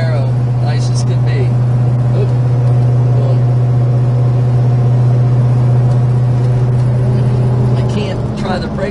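A 1968 Plymouth GTX cruising down the road, its steady low engine drone holding constant for the whole stretch with faint road and wind noise and a voice talking over it.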